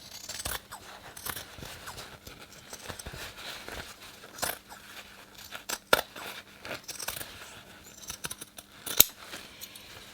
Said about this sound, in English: We clip, which is different to notching, which is just clip, clip, clip, and we cut down